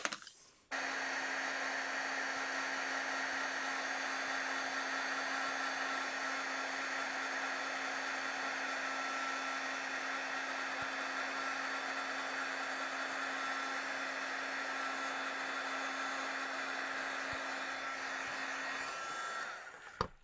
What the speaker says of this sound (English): the magic of heat embossing